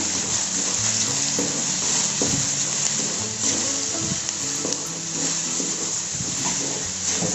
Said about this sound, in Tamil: இறாவை நல்லா சேர்த்து வதக்கிடுங்க வெங்காயத்துலேயே.